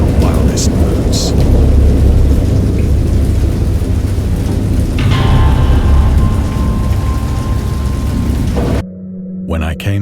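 A thunderstorm: heavy rain pours steadily with a deep rolling rumble of thunder underneath, loud and continuous, before cutting off abruptly near the end.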